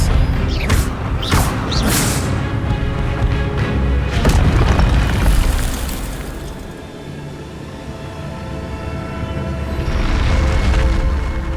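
Incendio fire spells cast in the video game Hogwarts Legacy: a rapid series of whooshing fiery bursts and heavy booms in the first few seconds, followed by a rumbling, mechanical game ambience that swells again toward the end.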